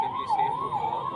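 Wailing air raid siren sounding during a civil defence drill in Uttar Pradesh, a steady rising-and-falling electronic tone that runs loud and continuous with no voices over it.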